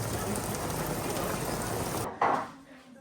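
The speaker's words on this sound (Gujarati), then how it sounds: "અત્યારે જો મુશળધાર વરસાદ વરસી રહ્યો છે." A heavy downpour of rain roars as a dense, steady wash for about two seconds, then cuts off abruptly, leaving a brief muffled sound and quieter background.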